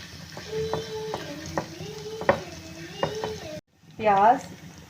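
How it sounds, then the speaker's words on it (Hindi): Garlic-ginger paste sizzles steadily in oil while a utensil scrapes and stirs the pan in sharp knocks, followed by a brief louder burst of frying after a short pause. "लहसुन अदरक का पेस्ट पहले मैं थोड़ा सा हल्का सा सौटे कर लूँगी"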